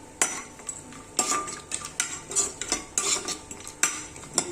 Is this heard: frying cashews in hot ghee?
yes